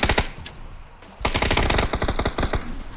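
Loud automatic gunfire in the battle royale game PUBG: rapid bursts of close shots, a short lull, then a longer sustained volley.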